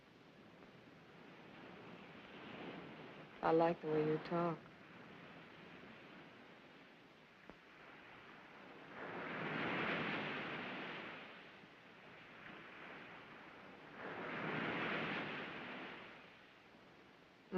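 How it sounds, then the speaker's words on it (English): Ocean surf rolls in as two broad, soft swells of noise rising and fading over a steady hiss, with a brief burst of talk early on. "You like the sound of the ocean?"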